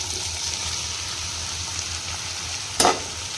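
Mushrooms frying in a pan give a steady, close sizzle that runs throughout, with a brief sharp hiss burst near the end, and no voices.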